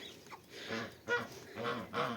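Hens in a backyard coop with roosters and chicks give a few low, clucking calls at close range, in separate short bursts with no one talking.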